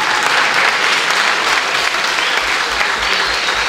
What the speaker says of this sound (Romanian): aplauze și pentru Cristi Varia și...